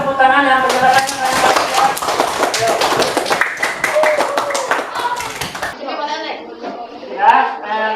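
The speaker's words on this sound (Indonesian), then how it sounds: "Silakan tepuk tangan yang penjelasannya" A primary class claps for group 2 after their presentation in a maths lesson on circles, a few seconds of brisk, uneven hand claps from many children, followed by a teacher's voice.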